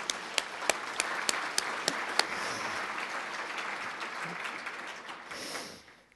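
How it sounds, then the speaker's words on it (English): Audience applause at a web conference morning keynote, a steady wash of clapping with a few sharp individual claps in the first seconds, fading out toward the end with no talking. "So can we clap for them again?"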